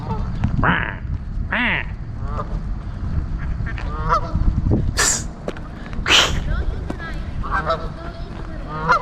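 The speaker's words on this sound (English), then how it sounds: "there's lots of geese and ducks, and the geese are picking on the ducks." Geese honk loudly and ducks quack nearby in repeated bursts as the geese pick on the ducks by a river, with wingy scuffles and a person talking intermittently beneath the birds.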